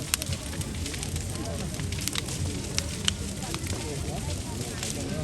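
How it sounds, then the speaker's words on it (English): Bonfire-night fire in a field burns with a continuous roar and scattered sharp crackles and pops, heard from nearby with outdoor crowd background. "They've already lit the bonfire"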